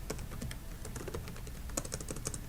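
Quiet, rapid clicking of keys on a computer keyboard as text is entered into an Excel spreadsheet, a light irregular patter of keystrokes close by with no voice.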